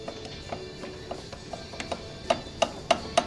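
A loose piston with play rattles and clicks metallically, irregular at first, then a few sharper knocks toward the end, close by and fairly quiet.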